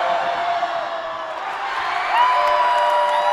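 Spectators at a high school basketball game, Anacortes against Lakewood, make a sustained wash of crowd noise around free throws, with whoops and shouts swelling louder toward the end.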